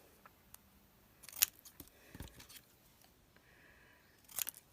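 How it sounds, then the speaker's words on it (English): Scissors trim chipboard pieces for a handmade tassel in a few quiet, close snips, with faint handling rustle between the cuts. "And then I'm going to trim these down, just like this."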